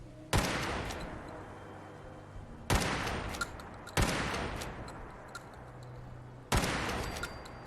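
Four sharp, loud gunshots from a weapon in Fallout 4 ring out at uneven intervals a couple of seconds apart, each with a decaying echo tail, over quiet game ambience.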